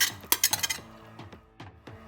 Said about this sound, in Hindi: अब इस चिकन और कॉर्न को हम दोबारा इसमें डालेंगे।